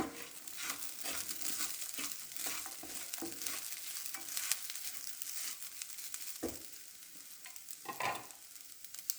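Rice for kheer is stirred in a pan with mashed pedhas, making a quiet, continuous scraping and crackling with a few sharper spoon knocks against the pan.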